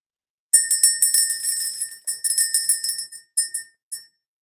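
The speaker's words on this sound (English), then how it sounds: "ring the bell, clear the energy" A small bell is rung to clear energy, its bright, high metallic tinkle repeating in quick clusters of strikes that trail off into sparse final rings, heard alone without talk.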